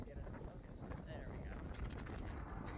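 Strong wind buffets the microphone on a wild Atlantic Ocean beach at Jupiter Island, Hobe Sound, with a steady loud rushing roar that continues throughout.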